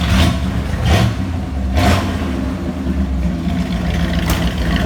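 A 1983 Chevy El Camino V8 with straight-pipe dual exhaust revs in several loud, close blips over a rumbling idle, each throttle stab rising and falling back.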